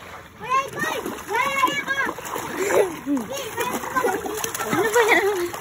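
Water splashes and splatters eagerly during a family birthday celebration, with children's voices chattering throughout over the fairly loud, continuous splashing.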